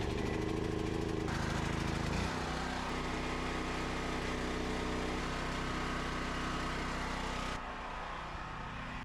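A portable home generator runs with a loud, steady engine drone that shifts pitch a couple of times, sounding close and continuous with no voices.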